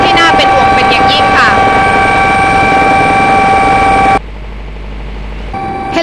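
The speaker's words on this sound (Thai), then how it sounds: "เฮลิคอปเตอร์ของกองทัพเรือต้องลงจอดบริเวณวัด" A navy helicopter landing near a temple, its steady loud rotor and engine drone filling the scene with high turbine whine, then a sudden drop to a low hum before the noise returns.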